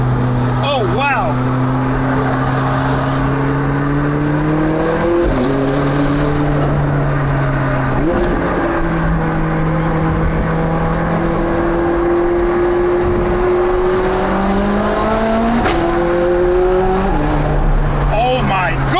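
McLaren sports car accelerating on a highway, a loud continuous engine drone rising and falling in pitch through gear changes, with air rushing through the roof scoop and an excited voice exclaiming over it.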